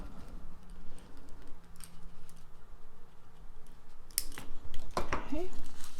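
Beading wire for a Southwest-style necklace gets snipped with cutters, a couple of sharp clicks over quiet handling noise, followed by brief rustling and clatter.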